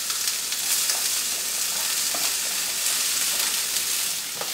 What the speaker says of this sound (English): let that fry for a couple of minutes until it starts to break down a little bit